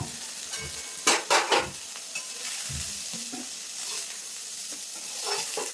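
Soybean chunks fry lightly in oil, a moderate steady sizzle near the pan with a few sharp metallic scrapes and clinks early on.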